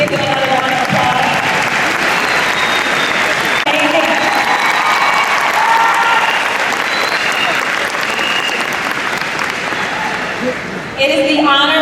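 Sustained audience applause fills a graduation ceremony at Proviso West High School, a dense, steady wash of clapping from a large crowd lasting throughout, with a brief dip near the end.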